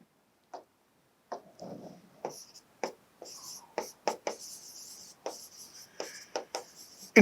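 A pen or marker scratches out short, separate strokes on a board or page during a calculus lecture on integration, close and isolated against near silence.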